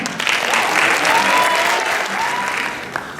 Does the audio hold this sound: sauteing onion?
no